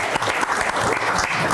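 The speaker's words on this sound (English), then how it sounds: "probably a round of applause to a lot of people in this room who worked on that" An audience in a conference room applauds, a dense, steady burst of clapping from many hands filling the whole moment.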